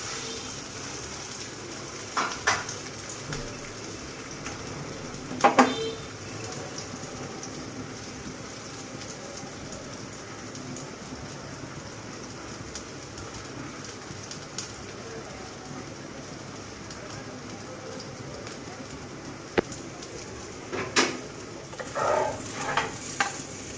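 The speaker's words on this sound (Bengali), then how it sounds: "এইভাবে গায়ে ব্রাশ দিয়ে তেল লাগিয়ে দিবেন, দিয়ে উল্টিয়ে পাল্টিয়ে এভাবে ভাজতে হবে" Spicy egg jhal pitha frying in oil, brushed and flipped, gives a soft, steady, rain-like sizzle throughout. A few louder clatters and scrapes come from turning it over.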